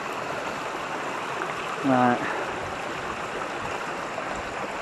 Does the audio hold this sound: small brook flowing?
yes